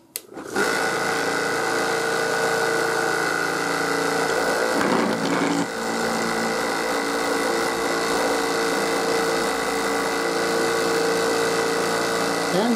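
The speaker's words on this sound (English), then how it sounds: "here's my tumbler. This is this has the walnut shell" A vibratory tumbler loaded with walnut shell media and brass cartridge cases switches on and runs with a loud, steady buzzing hum and rattling churn that continues unchanged to the end.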